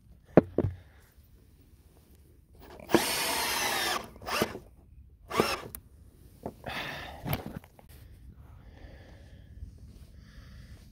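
Power drill drives an undrilled screw with a T40 bit into the log decking of a bridge, heard as several loud whirring bursts of a few seconds each separated by quiet gaps, with short clicks and knocks, close up.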